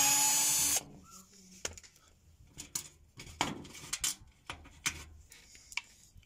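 A power drill removing screws from the front of an LG front-loading washing machine, opening with a brief loud whir followed by clicks, taps and metallic clinks of the screws being handled.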